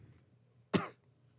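A single sharp cough rings out, loud and close, against a quiet room background with nothing else around it.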